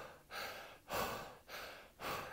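Deep, forceful breathwork breaths in a steady rhythm, four long loud inhale-exhale cycles each about half a second long, close and alone without speech.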